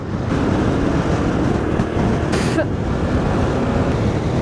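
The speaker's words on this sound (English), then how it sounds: "Oh, some fresh wind. A little bit of sand shifting." Strong wind blowing across open Namib desert sand, a steady loud roaring wash with a brief hissing gust of shifting sand near the middle.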